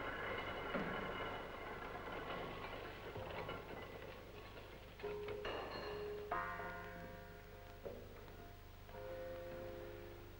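A freshly cast bell turns on a tuning machine in a bell foundry, giving faint sustained metallic ringing tones that start and stop over a low steady mechanical hum, with no one speaking.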